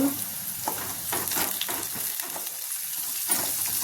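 Onions frying with curry leaves and turmeric in a pan, a steady close sizzle punctuated by several short scraping stirs spaced a fraction of a second apart.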